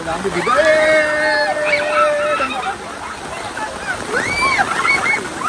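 A steady, heavy wash of rain or water noise runs throughout, with a voice talking over it.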